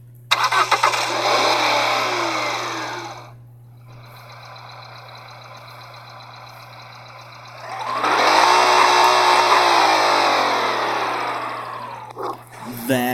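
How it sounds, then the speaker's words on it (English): A car engine in the Nitro Nation racing game starts up, with a broad burst of mechanical noise, then a steadier idle hum, then a second loud surge near the end, over a constant low electronic drone. "I don't even know what this car sounds like, to be honest, so we're gonna find out."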